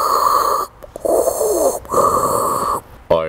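Heavy, rasping breaths drawn through a plastic face shield, close and loud, in three long hissing passes separated by brief pauses, with a hollow muffled quality like a masked villain's respirator.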